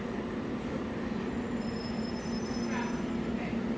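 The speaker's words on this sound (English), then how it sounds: "There we are, this is the train." An airport terminal tram train at Las Vegas airport runs with a steady rumbling roll and faint high wheel squeal, heard at moderate distance without talk.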